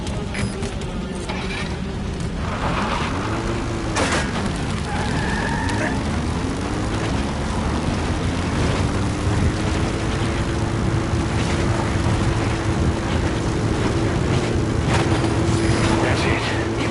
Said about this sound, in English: Time to get on the chopper.